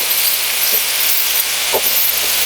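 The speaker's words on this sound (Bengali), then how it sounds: "তো এইভাবে আমরা আলুগুলো ভেজে নেব।" Salted potato pieces frying in mustard oil, giving an even, continuous close sizzle with a couple of faint soft knocks in the pan.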